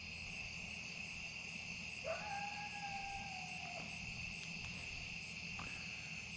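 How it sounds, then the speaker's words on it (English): A coyote howls at night from down the hill, a single rising, drawn-out wail of a few seconds, distant and faint above a steady chorus of crickets and insects. "There's a coyote right down there,"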